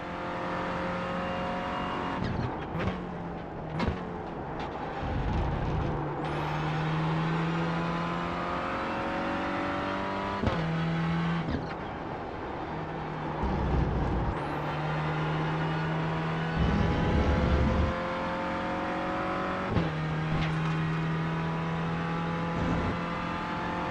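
Renault Clio Cup race car in a racing sim lapping Okayama, its engine droning loud and steady with repeated rising revs and abrupt drops at gear shifts, plus brief squeals, running throughout with no talk.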